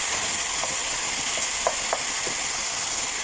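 Green beans being stirred into vegetable basmati rice with carrots and potato in a pan, a loud steady hiss of frying with a few soft scrapes of a spoon, close and without talk.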